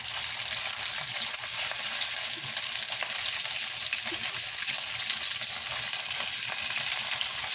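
Rice cakes with cheese sizzle and pop steadily in a hot frying pan, a continuous close crackle of frying with faint scraping, no voices.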